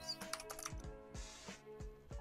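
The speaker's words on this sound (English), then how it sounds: "Are you typing?" Rapid clicking of computer keyboard keys during a BRM5 online game session, a loose run of sharp taps close to the microphone with no talk over it.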